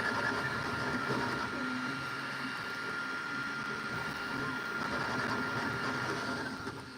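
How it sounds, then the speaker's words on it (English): A printer turning out a small boat model whirs with a steady mechanical hum and hiss, continuous and moderately faint, with no clear voices. "because it just started printing all by itself"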